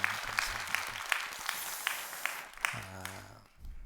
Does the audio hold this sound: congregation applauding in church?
yes